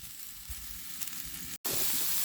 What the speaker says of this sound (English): We're gonna fry it for another 8 minutes.